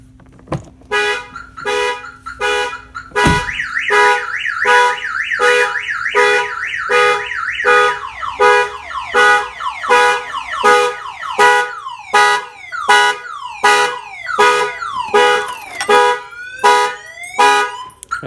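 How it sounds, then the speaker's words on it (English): A loud aftermarket Viper car alarm on a 2017 Ford F-250 pickup blares alone, cycling through rapid chirps, warbling wails and repeated honks in a fast, insistent pattern. "I'm going to set off the alarm system by unlocking the door."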